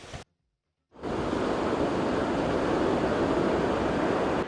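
Sea waves wash onto the beach at Mount Lavinia: after a brief silent break, a loud, steady roar of surf runs continuously, broad and rushing, with no voices.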